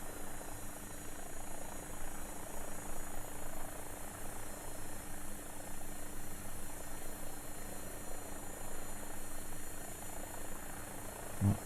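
Rotor and engine of an AW-109 helicopter in the X-Plane 12 flight simulator, a steady droning hum with a whining tone, continuous and even throughout.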